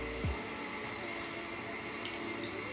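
Water runs steadily from a tap onto freshly washed curly hair, a close, continuous splashing wash with no talking over it.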